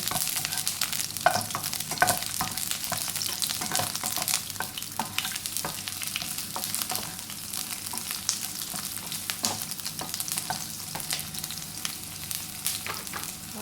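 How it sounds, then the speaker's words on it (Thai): Onions stir-fried in a pan for shrimp fried rice, a soft continuous sizzle with frequent scraping strokes of the spatula at an irregular rhythm, close by and fairly quiet. "เอาหอมใหญ่ใส่ลงไปผัดก่อนนะคะผัดหอมใหญ่"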